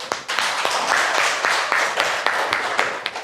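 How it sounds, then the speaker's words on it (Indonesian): A class applauding after a student's nursing presentation: a small group clapping close by, with distinct sharp claps standing out from a dense, steady patter. "Oke, kita beri tepuk tangan dulu."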